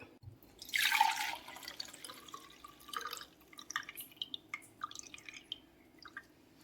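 Water from a fairly mature tender coconut pours out in a brief splashing gush, followed by quiet, irregular drips and trickles, close and soft.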